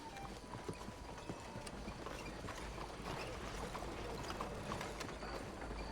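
Horse hooves clip-clop in Red Dead Redemption 2, a quiet, steady stream of hoofbeats mixed with game ambience and no talk over it.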